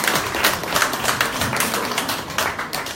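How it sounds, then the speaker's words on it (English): An audience at a business networking evening at an agricultural university gives a speaker another round of applause, producing loud, continuous clapping with no speech over it. "So let's give her another round of applause."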